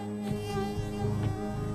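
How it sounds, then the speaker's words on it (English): Mosquito wings buzz in a close, continuous high-pitched drone, steady and loud, with slight wavering in pitch and no other sounds. "all the anguish that we feel when we hear mosquitoes buzzing"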